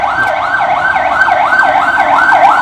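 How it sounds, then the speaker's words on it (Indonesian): An ambulance siren passes close by on a street, a loud wailing tone sweeping up and down in a steady repeating cycle over faint traffic. "Kita tadi baru aja dilewatin sama ambulans"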